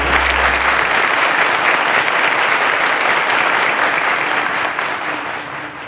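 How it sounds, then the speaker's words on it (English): Steady applause from a crowd, dense clapping that holds throughout and eases off slightly toward the end. "A round of applause to Favor."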